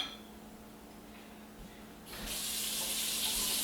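A tap opens after a quiet moment and warm water runs steadily into a container, a bright hissing splash that stays loud to the end.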